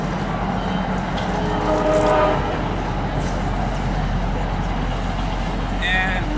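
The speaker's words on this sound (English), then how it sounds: "Of course, the train's going by." A train rolls past outdoors as a steady, loud rumble with faint squealing tones and a brief horn-like toot near the end, continuous throughout the moment.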